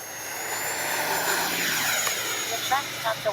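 An FMS 70mm Yak 130 RC jet taking off with a rising, whining ducted-fan roar that builds steadily. Someone speaks over it, and a few thumps come near the end.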